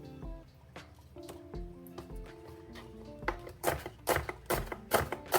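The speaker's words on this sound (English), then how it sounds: "I'm going to chop my green onions too" A kitchen knife cuts the ends off green onions while making low-sodium egg drop soup: soft scattered taps at first, then a run of sharp, close chops, over faint tonal background sound.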